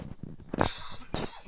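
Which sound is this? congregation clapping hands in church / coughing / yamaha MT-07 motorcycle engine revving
coughing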